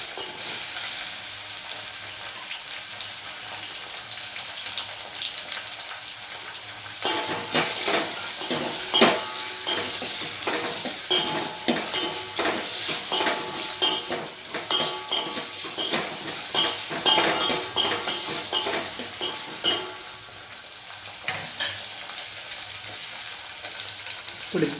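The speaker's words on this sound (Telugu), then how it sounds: "కరివేపాకు వేసి కొద్దిగా ఇలా వేయించాలి." Curry leaves and tomato pieces frying and being stirred in a pan for sambar, a steady close sizzle with frequent scraping and clinking of a spoon against the metal throughout, no voices.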